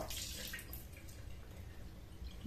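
Water is poured into a container in a kitchen, a faint, close trickle and splash running steadily for a couple of seconds.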